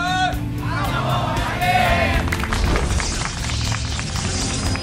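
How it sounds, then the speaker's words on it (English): A live audience at a StarCraft 2 GSL tournament match erupts in loud crowd cheering and whooping that swells and stays broad and sustained, with commentator talk running underneath. "That cheer audience sounded like robots."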